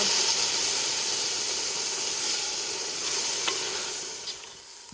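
Porter beer poured into a hot potjie pot over a wood fire to deglaze browned oxtail sizzles loudly in a dense, steady hiss that eases slightly near the end.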